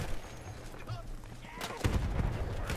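Selbstlader M1916 marksman rifle with a medium magnification scope firing in the video game Battlefield 1, a few sharp semi-automatic reports over a battlefield din, with a louder shot near the end.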